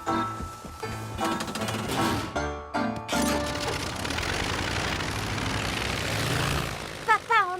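A cartoon propeller airplane engine drones loudly and steadily, its rough buzzing running through the whole stretch under busy background music, with a few brief chirps near the end.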